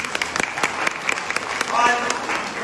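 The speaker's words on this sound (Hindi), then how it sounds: "इनके लिए भी तालियां बजाइए" An audience at a literary gathering in a college hall gives brief applause, claps scattered and uneven, while voices carry on close by over the clapping.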